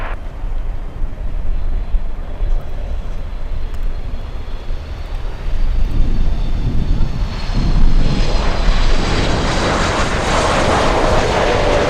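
An airplane lands at Miami International Airport, its engine roar building from a distant rumble to a loud, close, broad roar that holds steady near the end.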